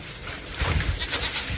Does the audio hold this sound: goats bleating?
yes